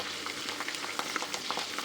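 Whole spices and washed curry leaves frying in hot oil for homemade chanachur, giving a brief, close, steady sizzle with light crackles and no voices.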